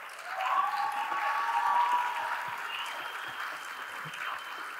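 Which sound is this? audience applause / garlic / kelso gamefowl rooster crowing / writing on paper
audience applause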